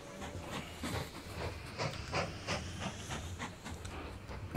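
A steam train in the Mashinky video game chuffs in rhythmic puffs of hissing exhaust over a low rumble, quiet and regular with no talking.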